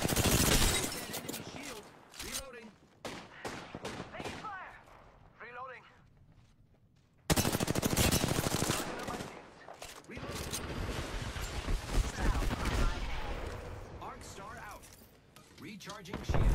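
Heavy gunfire in a battle royale shooter, loud dense bursts and explosions filling most of the stretch, with a brief lull before a fresh barrage; in-game voices speak over parts of it.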